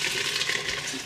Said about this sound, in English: I'm just going to take most of the water off. Just let most of the water go out like this.